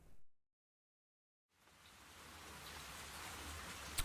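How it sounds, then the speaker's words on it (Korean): Steady rain sets in after a brief silence, a broad hiss of falling drops that grows gradually and holds at a moderate level, with no voices. "비가 오네."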